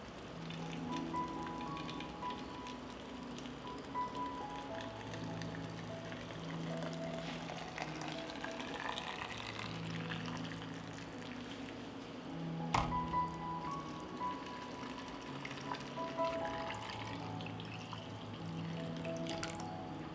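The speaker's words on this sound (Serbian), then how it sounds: "I proključalu vodu sipam u tegle." Boiling water is poured into glass jars, a continuous splashing trickle with a sharp clink partway through, heard alone at moderate volume under a faint musical background.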